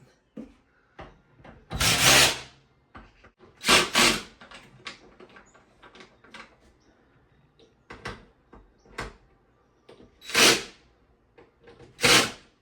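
Screws on a Midea chest freezer are checked and tightened, heard as a series of short bursts of a driver turning, several louder whirring spurts spaced a few seconds apart among small clicks and handling taps.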